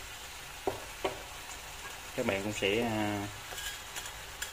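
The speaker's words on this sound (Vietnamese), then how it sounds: "bây giờ mình sẽ cho cái phần cá hồi nãy vào để mình chiên cho nó thấm nha các bạn" Pomfret fish frying in bubbling fish sauce in a home kitchen, giving a steady close sizzle throughout while a voice speaks briefly over it.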